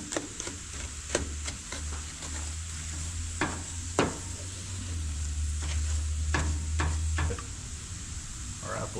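Bacon jam with brown sugar sizzles on a griddle, stirred with sharp spatula scrapes and taps at irregular intervals over a steady close frying hiss and a low hum.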